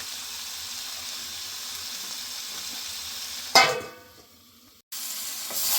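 Fatty mutton fries in a pan for gongura curry with a steady, close hiss and sizzle, broken by a sudden clatter partway through, after which the frying quiets before the sizzle swells back.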